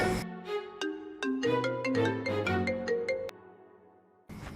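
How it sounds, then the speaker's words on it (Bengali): A phone rings with a melodic electronic ringtone, a run of bright tonal notes playing clearly for several seconds before stopping, followed by a burst of noise at the end. "এই জুই ফোন ধরেন"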